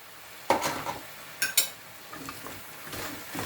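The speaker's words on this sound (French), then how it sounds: "Je vais mélanger." A spoon stirs a tajine of prunes with parsley and coriander in a pot, giving a few scraping, clinking knocks against the metal over a soft background sizzle, with no talking.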